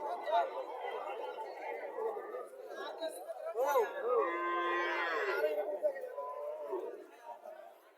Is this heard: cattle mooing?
yes